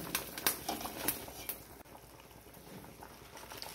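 Sinigang na bangus broth with pechay bubbles in a pot, a faint soft patter of small pops and bursts, a little louder at the start, with no talk.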